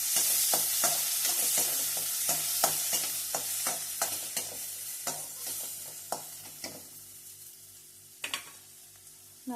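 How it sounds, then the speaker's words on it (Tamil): Onions sizzle steadily in a hot pan for Vendakkai Poricha Kulambu while a spoon scrapes and stirs in regular, sharp strokes, close up with no talking. "நல்லா வதக்கணும்."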